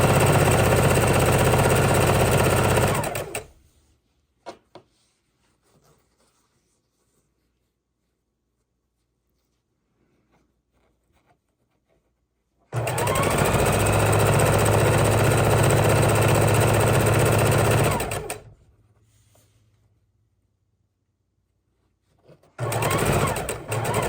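A sewing machine stitches a three-strip quilt border in short bursts, running steadily for a few seconds, pausing through a long silence, then running again and starting once more at the end.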